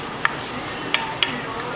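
Onions stirred in hot olive oil in a pan for shrimp pasta, a steady soft sizzle with three sharp scraping clicks of the spoon spread across the stretch, no talking.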